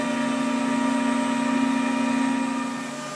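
A MultiCam 5000 Series 5x20 CNC router runs with a steady, even tonal whine and hum that holds constant and eases slightly near the end, close and moderately loud with no voices.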